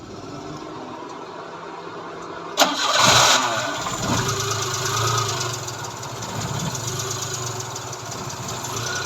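A motorcycle with a carburetor problem starts abruptly after a few seconds of low background hum, then settles into a rough, steady idle that stays close and fairly loud to the end.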